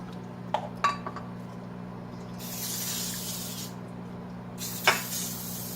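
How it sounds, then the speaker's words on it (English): Two bursts of hissing cooking spray onto baking pans, a second or so each, with light metallic clinks of pans before and between them over a low steady hum. "She's going to put that parchment paper down in after she sprays these pans"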